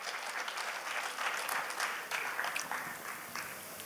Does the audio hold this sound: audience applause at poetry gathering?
yes